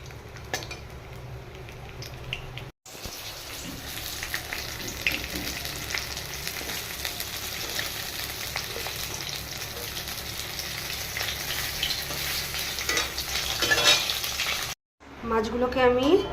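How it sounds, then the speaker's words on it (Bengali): Pomfret fish being lightly fried in oil: a steady, close sizzle and crackle holds for most of the stretch, with a couple of brief cuts and a short burst of utensil clatter near the end. "এবার এই মাছগুলোকে আমি হালকা করে ভেজে তুলে নেব।"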